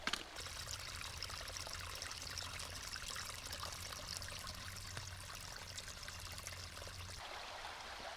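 Shallow stream water running and trickling at a water crossing on a backpacking trail in the Charles Deam Wilderness, a close, steady babbling flow with a brief knock at the start.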